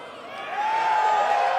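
Live crowd cheering at a fighting game tournament, Evo 2026, a broad sustained roar that swells louder after the first half-second and holds steady, with a thin whistle-like tone running through it.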